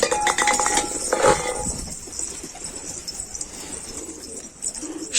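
Pigeons coo softly in low, rolling calls alongside a few light clinks and chirps, close by with no talking.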